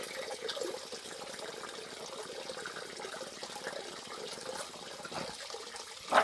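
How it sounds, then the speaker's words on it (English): Water gurgles and trickles as a water heater drains near its pressure relief valve, a faint, steady, close-up flow that continues without pause. "Now I can hear it's gurgling over here."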